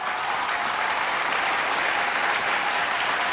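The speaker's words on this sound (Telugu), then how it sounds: "కొంచెం క్లాప్ కొట్టండి." Audience applause fills a hall at the IIFA Utsavam awards 2017: steady, dense clapping from a large crowd, loud and continuous throughout, with no voices standing out.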